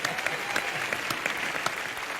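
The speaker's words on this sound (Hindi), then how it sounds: "इस बात के लिए तालियां होनी चाहिए" A studio audience at a comedy show claps in a dense, steady burst, loud and close, with no voices over it.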